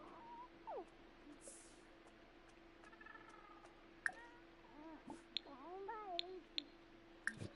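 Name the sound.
cat meowing in video game The Sims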